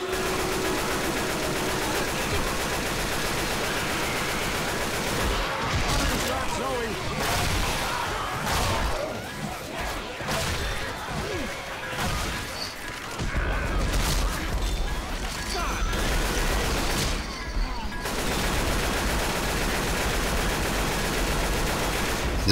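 Rapid automatic gunfire from Left 4 Dead 2 bursts densely through most of the stretch, loud and continuous, with a player talking over it and brief lulls between volleys.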